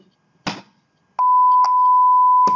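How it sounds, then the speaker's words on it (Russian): A steady test-tone beep from LF-Generator signal software starts abruptly and holds as one loud, continuous pure pitch, with a few brief clicks and knocks around it and no talk. "Да, пищит."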